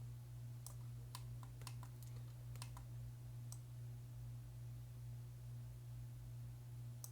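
Keys on a computer keyboard are pressed a few times during Blender modelling work, giving sharp, isolated clicks in irregular bursts over a low steady hum in a quiet room.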